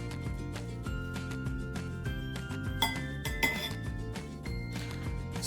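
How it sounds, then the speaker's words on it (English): Cooked rice spooned into the middle of a bowl, light clinks of spoon against the dish over steady background music. "So you want to spoon it in into the middle of the bowl?"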